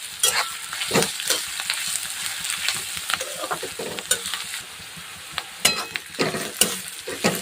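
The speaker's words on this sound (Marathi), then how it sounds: "आता तेला थोडंसं एक दीड मिनटं छान असं तळून घेऊ शेंगदाणे सुद्धा" Peanuts frying in hot oil in a pan while cooking kande pohe, with crackling sizzle and intermittent sharp stirring scrapes and clinks, close up, no talking.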